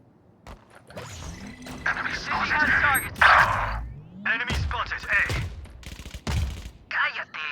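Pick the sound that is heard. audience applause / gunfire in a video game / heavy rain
gunfire in a video game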